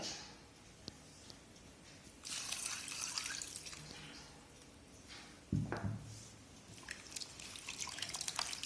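Thin coconut milk is poured into a prawn curry, giving a soft liquid trickle and dripping with a brief splashy burst midway, close and fairly quiet, with no talk.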